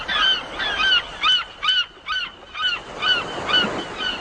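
A series of loud, nasal seagull calls in a video game repeats in a steady rhythm, about eight honking cries close by, with no one talking.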